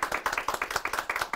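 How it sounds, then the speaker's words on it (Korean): Brief clapping from a small studio audience at a live CEO talk show, a handful of hands producing sparse, distinct claps in quick rhythm, fairly quiet. "오늘 수고하신 MC분들께 박수 부탁드리겠습니다"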